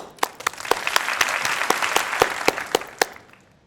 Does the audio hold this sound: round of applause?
yes